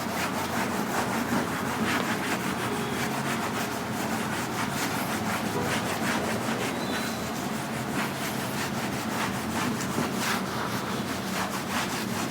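Writing is rubbed off a classroom board during a Class 12 maths lesson, giving a continuous scratchy, brushing scrub that repeats in quick strokes at moderate volume for the whole stretch, with no talk over it.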